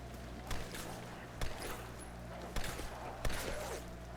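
Gunshots in the video game Tomb Raider, several sharp cracks spaced a second or so apart over a low ambient rumble, sounding fairly close rather than distant.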